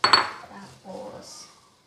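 Stirring fried rice with egg in a pan, a few sharp clinks of a utensil against the pan at first, then softer scraping and stirring sounds, close and fairly quiet.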